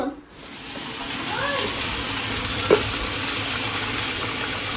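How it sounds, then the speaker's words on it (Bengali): Meat fries in a pan with a steady sizzle that carries on throughout the clip, with a brief clatter partway through and a voice talking faintly nearby. "মাংস এখানে কষানো হচ্ছে"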